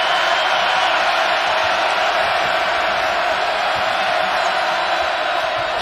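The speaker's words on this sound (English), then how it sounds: "listen to this crowd" Loud college basketball arena crowd at a Duke versus Clemson game, a dense, unbroken roar of cheering and shouting that stays at full volume throughout with no pauses.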